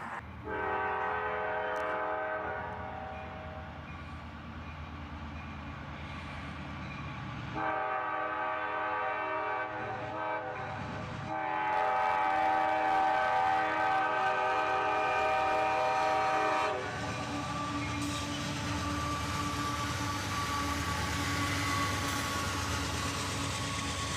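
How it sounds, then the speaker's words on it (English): Loud, drawn-out horn blasts from CSX freight trains sound in several long bursts over the rumble of two trains passing each other at dawn. "we already had 2 trains showing up"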